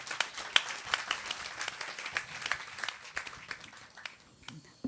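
Audience applause at a gender equality talk show, a scattered run of claps that trails away over a few seconds while a voice speaks faintly beneath.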